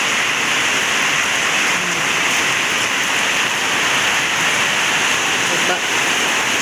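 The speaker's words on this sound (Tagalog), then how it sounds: "Ibang lakas ng ulan." Heavy morning rain pouring steadily outside near a home garden, a dense, loud, unbroken hiss of drops with no pauses and no voices over it.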